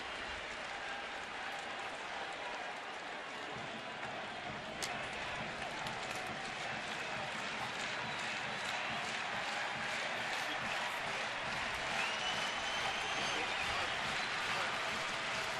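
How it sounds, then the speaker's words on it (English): Large baseball stadium crowd at a Detroit at Cleveland game cheers and applauds in a sustained, dense roar with scattered whistles and shouts, under a broadcaster's commentary. "This crowd really into it right now."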